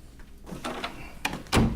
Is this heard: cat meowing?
no